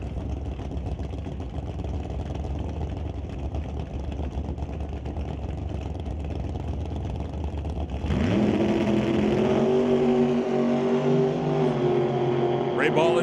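Drag race cars in a bracket ET race launch and roar away down the quarter-mile track. A loud, rising engine blast cuts in partway through, over a steady crowd-and-engine background, with an announcer talking.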